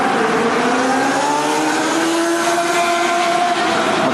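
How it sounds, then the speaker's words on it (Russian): Motorcycles and cars pass along Engels Avenue in Chișinău in the evening, a steady loud stream of traffic with engine tones rising and falling as vehicles go by. "Мотоциклов у нас много по вечерам."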